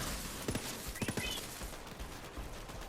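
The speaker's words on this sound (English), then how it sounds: "Ah, burst fire." Burst-fire gunshots from the video game Borderlands 3, a few quick clustered bursts of rapid shots over dense game noise.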